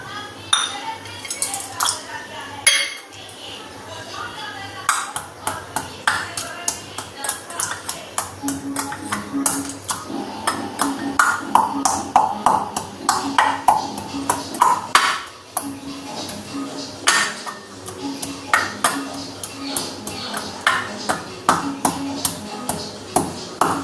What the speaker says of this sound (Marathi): एवढा हा जो मसाला आहे तो कुटून घेऊ